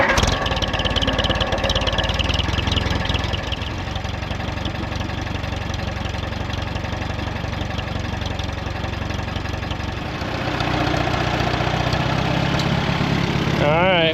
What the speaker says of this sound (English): let's kick the mower in.